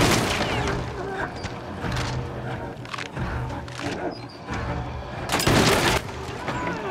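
Dense, continuous enemy gunfire in Little Nightmares 2, with repeated sharp cracks and rumbling bursts that stay loud and close throughout.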